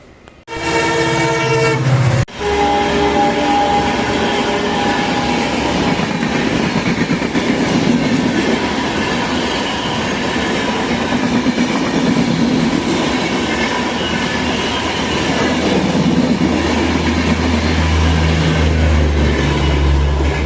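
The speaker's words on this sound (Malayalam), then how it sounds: "അടിച്ച് പോയത് നമ്മുടെ കൊച്ചുവേളി മൈസൂർ എക്സ്പ്രസ് ആണ്." The Kochuveli Mysore Express roars past up close at speed, a loud, steady rush of wheels and rolling stock for about twenty seconds after a brief horn-like tonal burst at the start, with no voices.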